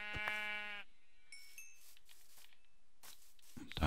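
A sheep in Minecraft lets out a single loud, close bleat at the very start, followed by quieter scattered game sounds and short clicks.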